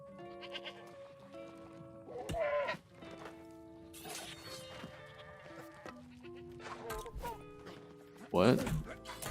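A goat in the video game New World bleats repeatedly, with several wavering cries spread across the clip among in-game rustles and footsteps, the loudest calls near the start and end.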